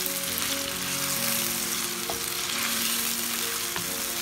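Large pieces of chicken for a restaurant-style chicken korma fry steadily in hot oil, a close, continuous sizzle and crackle with no talking over it.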